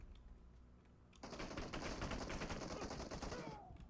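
Gunfire in the PUBG Mobile video game, a dense burst of rapid automatic shots that erupts after a quieter second and continues steadily as a loud rattling stream before cutting off near the end.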